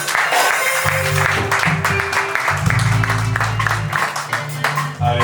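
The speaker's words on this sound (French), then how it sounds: "Est-ce qu'on peut les accueillir avec les acclamations?" A church congregation at a second-anniversary celebration applauds and cheers, a dense wash of clapping with voices and acclamations mixed in, steady throughout.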